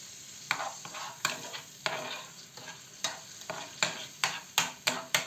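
Tomatoes frying in a pan, a steady sizzle with rhythmic scraping strokes of a spoon stirring them about once every half second, close and clear without talk.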